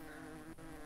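Swarm of bees buzzing steadily and close throughout, a dense continuous drone with a brief dip midway and no voices.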